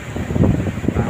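Gusty wind at Bato Beach blows across the microphone in low, rumbling buffets, close and fairly loud, with a sea ambiance underneath and no talking.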